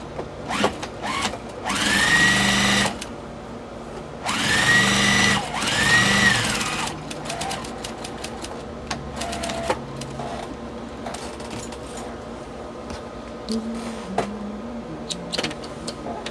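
A sewing machine stitches fabric strips for a mug rug, whirring close in several short bursts with quiet handling and fabric shuffling between runs.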